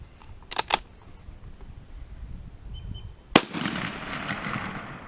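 A single sharp rifle shot from an M98/29 Persian Mauser cracks out loud, followed by a fading echo, after a few faint clicks and quiet outdoor ambience.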